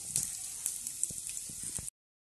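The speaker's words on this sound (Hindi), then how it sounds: "और इसको ऐसे हम 1-2 सेकंड के लिए फ्राई कर लेंगे" Cumin seeds and asafoetida crackle and sizzle in a small amount of hot oil while making Punjabi rajma masala, a steady close hiss dotted with sharp pops that runs for about two seconds before cutting off.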